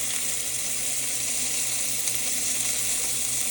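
Pork tenderloin sears in a hot pan with a steady, dense sizzle and crackle that holds even and close throughout, with no voices over it.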